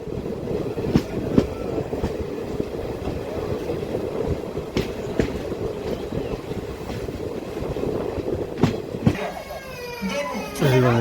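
A DEMU local train pulls out of Mirzapalli station, its steady rumble and clatter running throughout with rhythmic wheel knocks and a brief rising whine near the end, as someone talks over it.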